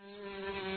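A steady, close insect buzz with a strong droning hum that holds without pause and slowly grows a little louder.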